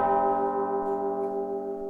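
A single bell rings with a sustained, resonant ding that decays slowly, clear and alone.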